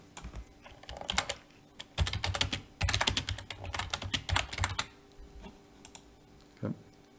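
Steady typing on a computer keyboard, quick clusters of light key clicks with short pauses between bursts, close and clear with no talking.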